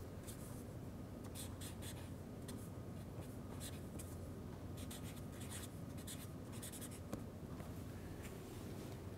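Chalk or marker writing on a board during a lecture on measurement results, a steady scratchy stroke texture with brief gaps running throughout, close and fairly quiet, with no talking.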